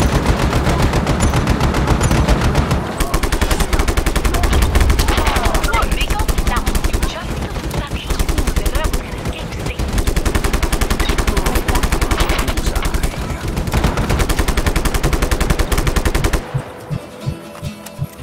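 Continuous loud gunfire from the video game Just Cause 3, with rapid machine-gun bursts and explosive shots almost unbroken for the whole stretch, tapering off at the very end.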